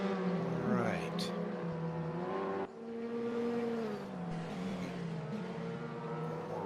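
Race car engines drone and shift pitch on the Aragon circuit in the RaceRoom racing game during an endurance race. A steady, moderately loud engine whine rises and falls through gear changes, with a person talking over it.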